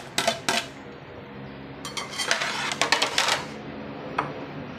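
Squash pieces dropped into a cooking pot for pakbet, a few sharp clinks and clatters against the metal pot followed by a cluster of rattling knocks, close and moderately loud, with no talk.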